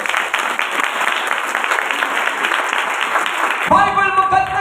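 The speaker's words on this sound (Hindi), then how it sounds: "जोर से ताली बजाएं।" A church congregation claps loudly in a steady burst of applause lasting several seconds, ending as a voice begins.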